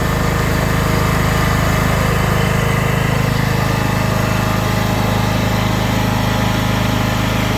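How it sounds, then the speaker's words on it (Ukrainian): A small petrol generator engine drones loudly and steadily at close range with a constant buzzing whine while powering an angle grinder, no pauses or changes throughout. "ми спробуємо включити болгарку"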